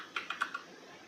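Four quick, fairly close keystrokes on a computer keyboard as a Linux command is typed, evenly spaced and alone, with a faint room hiss behind.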